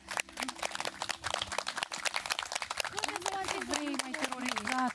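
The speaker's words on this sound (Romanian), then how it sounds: "Puteți să-i primiți cu aplauze." Dense, steady clapping from a studio audience at a televised wedding-show finale fills the scene, with a voice or music rising over the applause in the second half.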